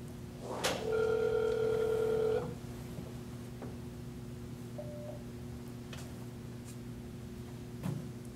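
A single telephone ring tone sounds over the line as a call goes out, a steady electronic tone lasting over a second followed by quiet line hiss and a faint click.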